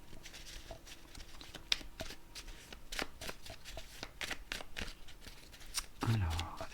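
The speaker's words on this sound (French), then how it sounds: "je vais recouvrir quelques cartes qui m'intriguent un petit peu" Tarot cards shuffled, flicked and laid out on a table, with crisp rapid papery riffles and soft slaps continuing close up, alongside faint speech.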